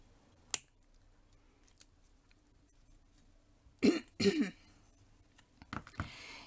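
Pliers snip wire into equal lengths for wine-glass charm rings: one sharp isolated cut early, then a quiet stretch, then a quick cluster of louder clipping clicks near the end, close and with no talking.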